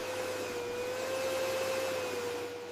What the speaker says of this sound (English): I vacuum the living room carpet.